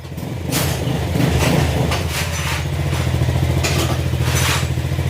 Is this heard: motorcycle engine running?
yes